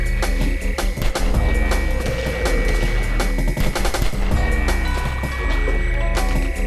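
Loud, rapid bursts of film-scene gunfire with practical muzzle flashes, dense automatic shots crackling one after another with heavy low-end thumps throughout.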